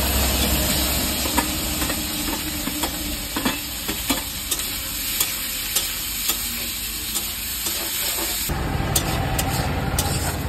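A tempering of onion, garlic and chili sizzles loudly in hot oil, a dense continuous hiss broken by frequent small crackles and scraping stirs, heard close with no talking.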